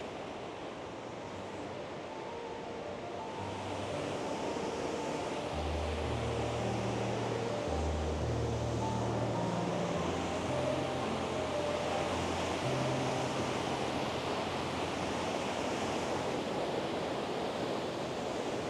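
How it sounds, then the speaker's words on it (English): Loud, steady rush of running water from a waterfall beside a hiking trail near El Chaltén, a broad continuous roar that swells slightly partway through, with no voices. "the sound of running water is getting very loud"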